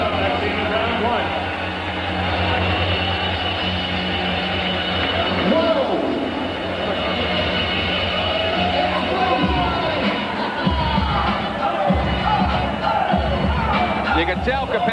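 Capacity boxing crowd at the Hammerstein Ballroom during a pro debut bout, a steady roaring hubbub of cheers and murmur filling the arena throughout, with commentary voices underneath.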